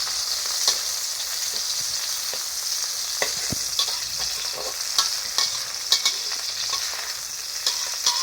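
Cabbage stir-frying in a pan with pork, chilies and fish strips, with a loud continuous sizzle close by and frequent clicking, scraping stirs of the spatula throughout.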